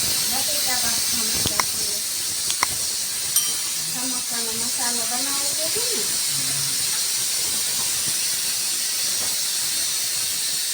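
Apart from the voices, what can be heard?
pressure cooker hissing steam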